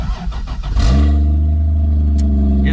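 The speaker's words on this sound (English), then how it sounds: "let's go ahead and crank this thing up." A Lexus IS300 engine cranks briefly, then catches and settles into a loud, steady idle, close to the microphone with a low rumbling drone and a faint click near the end.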